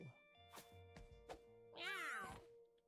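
A cat meows loudly and clearly near the end, a drawn-out wavering cry, preceded by softer thumps and short voiced sounds close by.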